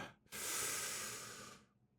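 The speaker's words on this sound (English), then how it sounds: "I had to take a big breath right there because I was talking for a while and I didn't breathe." A single big, long breath drawn in after a stretch of talking, a close, airy hiss lasting over a second before fading out.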